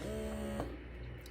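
Momcozy cordless double breast pump on its first setting, a steady low motor hum with a whirring tone that shifts briefly near the middle, close and continuous with no talking.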